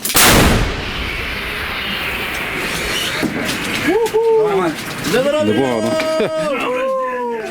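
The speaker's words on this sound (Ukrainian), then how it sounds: "Постріл!" A loud, sharp blast from an old American howitzer opens the clip and rumbles away, followed by rising and falling whistling tones and distant mechanical noise.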